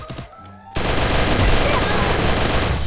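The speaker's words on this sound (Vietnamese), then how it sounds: "mình lần đầu tiên mình bắn khẩu này" Automatic gunfire in the Free Fire video game opens abruptly after a short quiet stretch, then continues as a loud, dense, close burst to the end.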